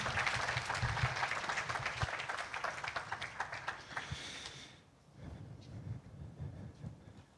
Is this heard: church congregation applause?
yes